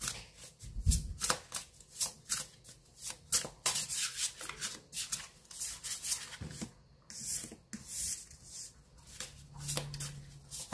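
Oracle cards shuffled for a reading, a steady run of close, dry riffling and rubbing bursts with brief pauses, no talking.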